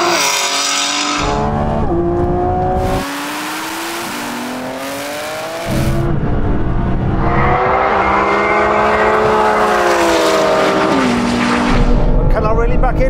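Lamborghini Revuelto, BMW M3 Touring and Audi R8 in a third-gear roll race from about 50, engines roaring loud and close with rising revs, a brief drop and gear changes, then sustained hard acceleration.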